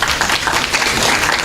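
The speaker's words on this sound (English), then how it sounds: "A round of applause to them." Audience at a productivity awareness week event applauding, a short, loud wash of many hands clapping at once.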